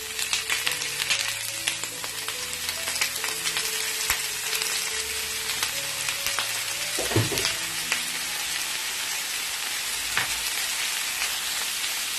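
Sliced potatoes drop into hot oil in a pan for a dhaba-style aloo baingan sabzi, setting off a steady, close sizzle and crackle that runs alone throughout, with a few scraping stirs.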